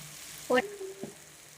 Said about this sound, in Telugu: మ్యాక్సిమం ఫ్రై అయిపోయింది ఫ్రెండ్స్ పొటాటోస్.